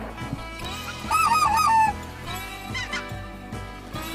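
Geese honking during a goose hunt, several loud close calls in a quick wavering burst, with fainter honks continuing over a low rhythmic thumping background.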